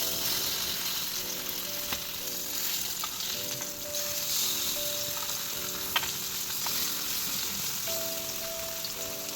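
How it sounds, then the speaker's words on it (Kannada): Mangalore bangude fish coated in red masala frying in a pan, a steady soft sizzle with faint clinks, no voices. "ಇವಾಗ ಫಿಶ್ ಒಂದು ಸೈಡ್ ಫ್ರೈ ಆಗಿದೆ"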